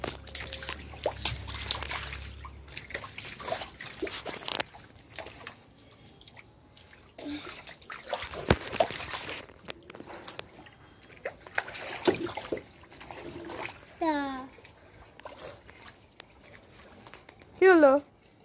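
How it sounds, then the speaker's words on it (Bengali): Water runs and trickles out steadily during a child's play at home, with drips and splashes under children's and adults' voices talking throughout. "সরো, জল ছেড়ে দিচ্ছে।"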